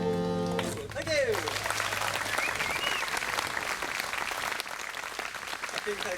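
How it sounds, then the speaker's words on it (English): Audience applause breaks out after a folk song at a live performance in Abbotsbury, steady dense clapping filling the room throughout, with a sung or spoken voice trailing off at the very start. "I caught John out there getting you all to clap"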